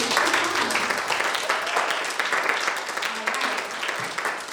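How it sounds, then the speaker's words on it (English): A church youth day audience applauds, a brief, fairly full burst of clapping from many people that stays fairly even throughout. "So give yourselves a round of applause."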